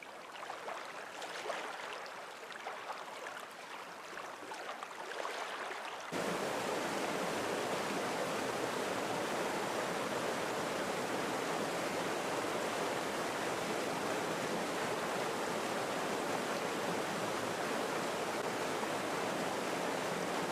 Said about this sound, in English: Soon the streams will rise exponentially.